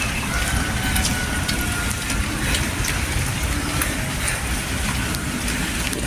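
Heavy rain pours steadily during a typhoon at a resort, a dense, unbroken hiss with scattered drips and patters and no pauses.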